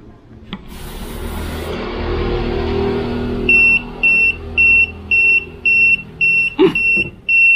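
Tire pressure monitoring alarm inside a car after the front left tire is deflated: a soft rustle, then a close, steady series of about eight sharp electronic beeps in an even rhythm, with a brief thump partway through.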